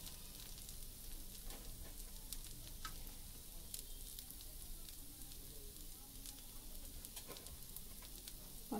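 Onion dosa sizzles steadily on a hot griddle as chopped onions are scattered over it, a constant close crackling hiss with small pops and faint scraping throughout.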